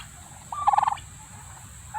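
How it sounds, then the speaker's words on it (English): A turkey on a farm gives one rapid gobble, a quick burst of pulsing notes standing out against a steady low outdoor background, with no speech. "I got more turkeys joining me."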